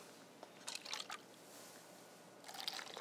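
Water is poured from one cup into another in two short, faint trickling bursts separated by a quiet pause, at a conference presentation.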